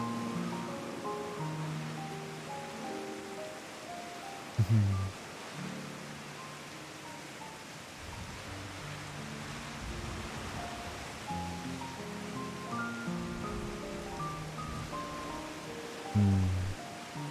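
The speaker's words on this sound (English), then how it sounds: "It's a little awkward because it's raining right now." Steady rain and rolling surf wash through Thavnair in Final Fantasy XIV, a constant hiss with soft melodic tones drifting above it and two brief thumps near the start and end.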